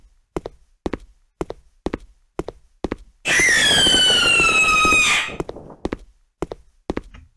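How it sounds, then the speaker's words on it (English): A loud, harsh scream bursts out for about two seconds as a jumpscare sound effect in a Unity game, framed by a steady run of sharp regular clicks or taps before and after. "when we press play, brace yourselves because we're going to hear a scream"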